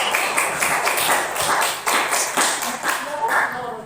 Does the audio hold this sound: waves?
no